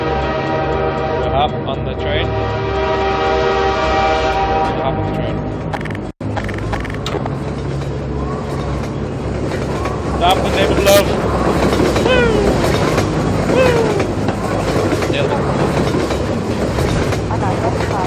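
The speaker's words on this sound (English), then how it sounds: "Hop on the train." A train in the video game Half-Life 2 rumbles steadily with rhythmic rail clatter and rolling noise for the whole stretch, loud and close, with a brief dropout partway through.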